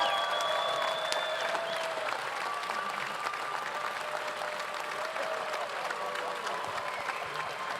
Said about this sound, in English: please stand and applaud. Please stand and applaud.